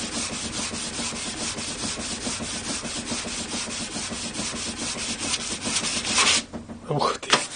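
Continuous rhythmic abrasive rasping of a homemade electric planer's knife blade against a sanding surface, steady strokes close by, ending with a few scrapes and a brief pause.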